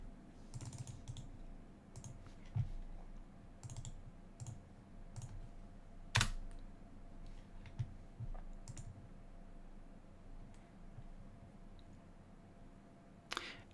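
A computer keyboard clicks away at close range, bursts of quick keystrokes separated by short pauses, with one sharper, louder key strike partway through, all fairly quiet against a low background hum.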